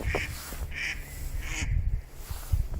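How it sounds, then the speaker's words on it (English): Several ducks quack in short bursts, one after another, fairly close, with a low outdoor rumble underneath. "there's a gazillion ducks everywhere, as you can hear"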